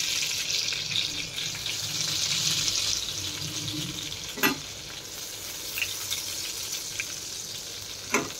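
Whole spices frying in hot oil for a Bengali recipe (dry red chillies, bay leaves, cardamom, cloves, black cumin and peppercorns), a steady broad sizzle throughout with a few sharp clinks of a utensil against the pan.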